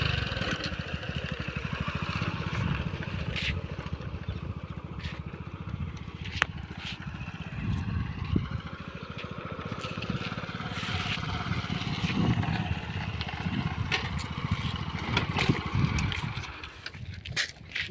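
A motorcycle engine, just fixed with its engine completely back in place, runs as a steady, close, chugging idle throughout, with faint background noise and occasional clicks.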